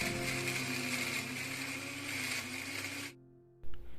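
A kitchen blender whirs loudly and steadily as it grinds shallots, garlic, turmeric, ginger and coriander with water, then cuts off abruptly, followed by a short clunk.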